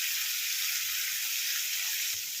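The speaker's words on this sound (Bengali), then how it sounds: "এই দেখুন ভাজা হয়ে গেছে চিংড়ি মাছটা" Prawns sizzle in hot oil in a pan, a constant, close crackling hiss with faint low bumps of movement underneath and a small knock near the end.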